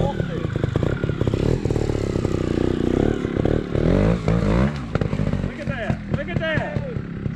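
A Montesa 300RR trials motorcycle picks its way over logs, its engine revving in short bursts and dropping back, loud and close, with clattering from the bike and people talking over it.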